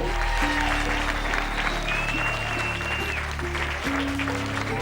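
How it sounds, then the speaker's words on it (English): An audience at the Showville talent show in Darling, 2016, applauds in a continuous, even wash of clapping, with sustained musical tones and voices running underneath. "give yourselves another round of applause"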